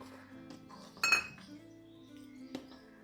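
A spoon stirs condensed milk and sugar in a pan for custard kheer, giving quiet scraping and a few distinct metallic clinks against the pan, with a low hum underneath.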